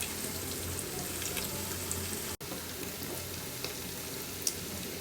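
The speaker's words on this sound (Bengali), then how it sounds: "সসেজগুলো দিয়ে দেওয়া হইতেছে" Fried chicken and sausages sizzle in a pan for noodles, giving a constant soft hiss with a brief dropout and a couple of faint clicks, with no voices.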